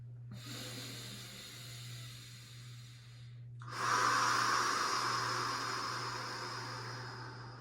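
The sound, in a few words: slow deep breathing during yoga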